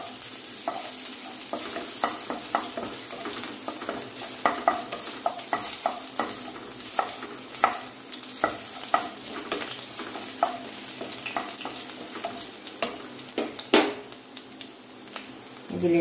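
Crushed ginger and garlic fry in coconut oil in a pan for a chickpea and soy chunk curry, under a soft continuous sizzle broken by frequent light scraping and tapping from stirring, fairly quiet and close.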